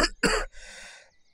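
A person coughing in a Bengali story reading, two sharp close coughs in quick succession followed by a softer throaty trailing sound, then another cough starting at the end.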